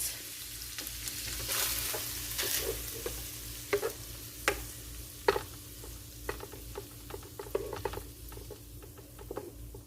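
Sausage and flour cooking together in a pan over lowered heat, a soft continuous sizzle broken by scraping stirs and sharp utensil taps, close and fairly quiet.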